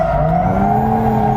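A Hyundai Genesis Coupe (SEMA build) drifts with the throttle modulated in and out, its engine holding a loud, steady, close drone with a sustained tire squeal running throughout.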